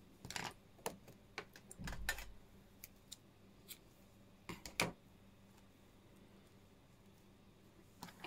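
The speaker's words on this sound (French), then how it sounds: "on va couper le fil ici" Scissors snip crochet yarn after a finished hat, a scattering of sharp metallic clicks and short cuts spread unevenly, close and quiet with no speech.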